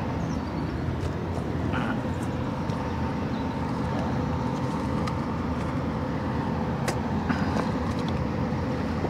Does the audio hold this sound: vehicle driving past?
yes